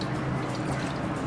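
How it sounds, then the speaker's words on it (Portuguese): Three cups of water poured into a cooking pot make a brief, soft, continuous splashing and trickling, faint and alone. "Vou colocar 3 xícaras de água aqui na panela."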